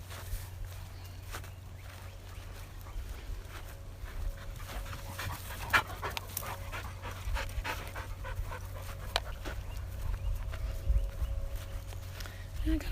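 Several Labrador dogs pant hard and shuffle about close by, with quick breathy rhythms and scattered footfalls over a low rumble while a person talks.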